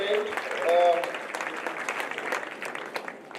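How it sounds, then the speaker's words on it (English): An audience at an education and leadership congress applauds steadily for a few seconds, a broad patter of many hands with faint voices underneath. "A round of applause for our friend"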